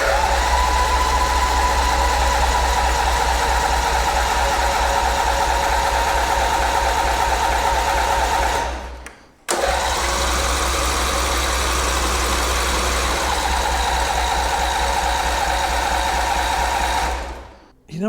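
A Cub Cadet 1440 lawn tractor with a freshly cleaned carburetor, new gas and a new battery cranks and runs with a loud, close, rapid clattering rhythm, cutting out briefly midway, then catching again.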